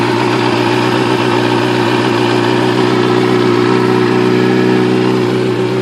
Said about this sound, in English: I'm just waiting for the bike to warm up.